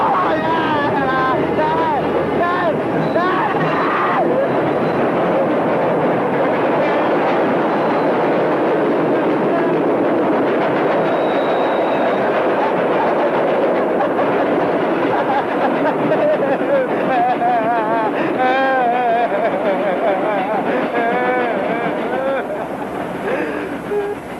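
A passing train sends a steady, loud rumble and roar through the whole stretch, with squealing metallic tones rising and falling, while shouting and babbling voices carry over it throughout.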